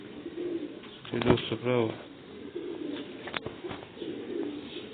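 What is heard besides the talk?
pigeons cooing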